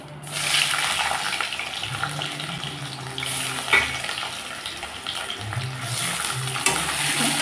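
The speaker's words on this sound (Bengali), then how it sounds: "আলুগুলোকে আমি পাতলা পাতলা করে কেটে নিয়েছি, দিয়ে দিচ্ছি।" Thinly sliced medium potatoes frying in mustard oil tempered with nigella seeds for a fish curry, a continuous close sizzle with occasional stirring clinks and scrapes.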